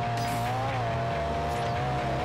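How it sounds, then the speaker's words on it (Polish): A Lotus drifts through a corner in Forza Horizon, with a loud, steady engine drone and tire squeal running together, the pitch wavering slightly as the car slides. "Nie mogę się przyzwyczaić do tego mocnego skrętu i driftowania."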